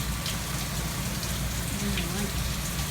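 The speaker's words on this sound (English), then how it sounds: "Maybe you would think the rain is so heavy, but it's really not heavy rain at all." Steady rain from Hurricane Matthew in South Jacksonville falls as a constant broadband patter outdoors, moderate rather than torrential, with no voices.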